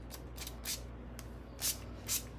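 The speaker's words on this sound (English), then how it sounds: "I'm gonna use some of our Hydra Strength leave-in spray, a very minimal amount." Several short, close hisses of Hydra Strength leave-in hair spray misted onto hair at a salon, coming in quick separate bursts over a steady background hum.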